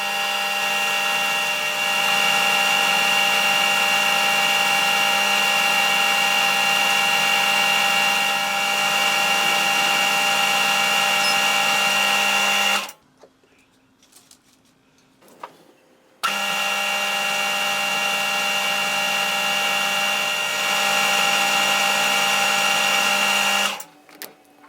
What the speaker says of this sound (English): I want to drill a hole there and a hole 10mm along